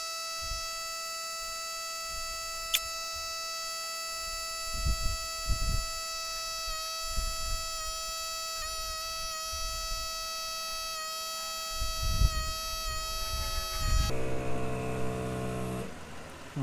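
An air compressor with an air tank inflates an aired-down car tire back toward 35 psi, a continuous close droning whine with a steady pitched tone that shifts abruptly near the end.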